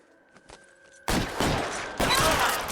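Video game gunfire in L.A. Noire: after a quiet moment with faint clicks, a sudden loud burst of sustained rapid shooting breaks out, pauses briefly, then resumes just as intense.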